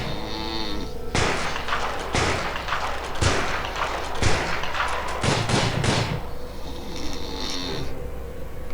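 Gunfire in the prison-management game Prison Architect: a rapid string of loud, sharp shots bunched between about one and six seconds over a steady low background hum.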